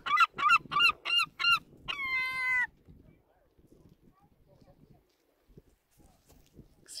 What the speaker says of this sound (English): The seagull.